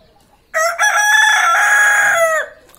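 A desi rooster perched in a tree gives one loud, close, drawn-out crow lasting about two seconds, then falls silent.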